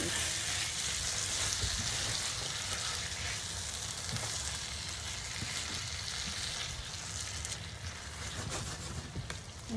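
Creole sauce sizzling and reducing in a pan, a steady, dense bubbling sizzle that carries on throughout, close and fairly loud with no distinct talk.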